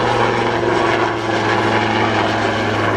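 A Navy Westland Lynx HMA 8 helicopter, an upgraded Mark 3, flies past at an air show, its loud, steady rotor and engine roar continuous and close throughout.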